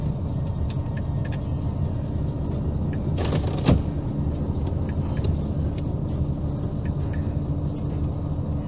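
A Volvo FH truck rumbles steadily at low pitch while reversing, with one short hissing burst midway, like air being released.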